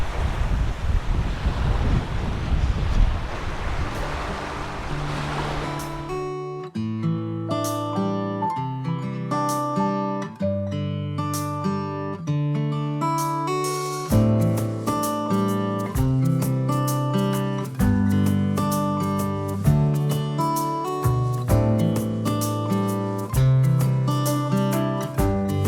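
Desert wind near Lake Havasu roars as loud buffeting gusts against the microphone for several seconds, then gives way to music with piano-like notes that carries on to the end.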